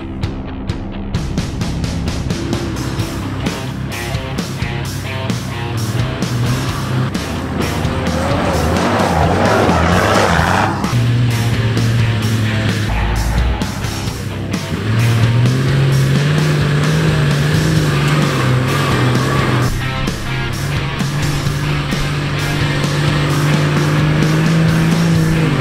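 A 4WD vehicle driving along a sand track in Australia, its engine droning loudly and continuously up close, the pitch shifting as it works through the soft sand, with occasional scrabbling tyre noise.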